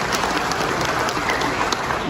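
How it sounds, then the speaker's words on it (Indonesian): Audience applause at a political speech before Golkar party cadres, a dense, sustained wash of clapping from a large crowd that fills the room evenly. "Tepuk tangan untuk Ketua Kornas."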